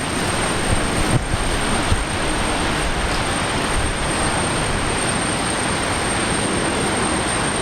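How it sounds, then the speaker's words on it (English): A United Boeing 777-200ER airliner on landing approach from San Francisco at Brisbane Airport, heard as a steady, broad roar of jet engine noise that holds at a constant level throughout, with no voices. "777-200 ER coming in from San Fran."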